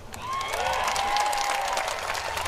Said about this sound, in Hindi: ये अभी आप ताली जल्दी बजा गए।